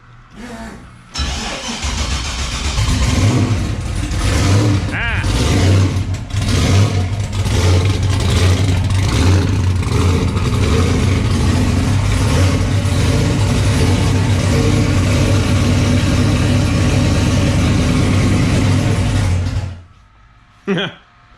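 A turbocharged car engine fitted with tubular headers cranks and fires up loudly, then revs and idles roughly for about eighteen seconds before it cuts off. It is close and dominant throughout, with no talk over it.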